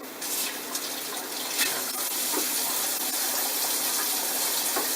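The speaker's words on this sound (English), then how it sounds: "I'm going to rinse off these bones and then we'll be ready to go." Tap water runs in a steady, continuous gush into a sink as roast duck bones are rinsed, a constant hiss filling the whole stretch at close range with no talk over it.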